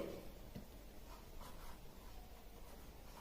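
Chalk or marker scratching across a classroom board during a class 6 lesson on electric cells, faint and sparse soft strokes against a quiet room hum, with no talking.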